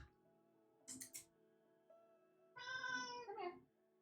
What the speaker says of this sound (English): That was my cat, wasn't it?